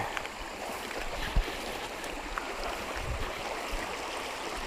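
An aquarium aerator bubbles in a bait bucket of water outdoors at a bait hole, giving a steady soft gurgling wash with a couple of faint thumps, no one speaking.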